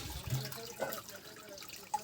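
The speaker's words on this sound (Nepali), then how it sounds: "यसरी छान्दैछौँ हामी चाहिँ डल्ले भैँसीको मही।" Buttermilk from a Dalle buffalo being strained, with liquid trickling and dripping in a soft, steady stream and a few small splashes, fairly quiet and close, with no voices.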